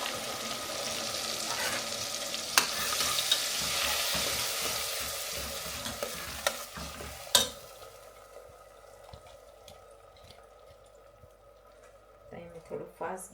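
Tomatoes, ginger and green chillies frying in a pan for street-style pav bhaji: a loud, busy sizzle with scraping stirs and clicks, fading to a quieter crackle in the second half, with a voice faintly present.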